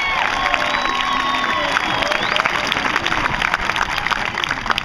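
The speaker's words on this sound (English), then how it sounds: "Please give them a round of applause." A stadium crowd gives a drum line a loud round of applause, with dense clapping mixed with cheers, whoops and shrill shouts that hold steady across the whole stretch.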